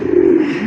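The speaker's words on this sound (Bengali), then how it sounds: "দেন ডাক দেখছেন কিরকম করে ডাকে" A fancy racer pigeon gives a close, loud, sustained coo, a low throaty rolling call with no talk over it.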